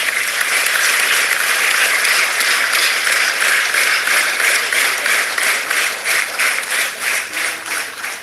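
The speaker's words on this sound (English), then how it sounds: "A round of applause to ISRO's all-women team of Chandrayaan." A large crowd at Jio's 42nd AGM gives a loud, sustained round of applause for ISRO's all-women Chandrayaan team, dense clapping that holds steady for several seconds before slowly thinning.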